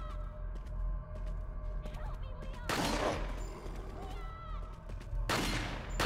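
Resident Evil 4 gunfire rings out in two loud, sharp shots a few seconds apart, each with a brief ringing tail, over quiet game ambience and faint background voices.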